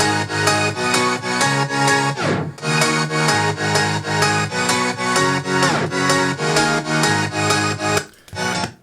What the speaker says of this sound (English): 3 pianos layered together.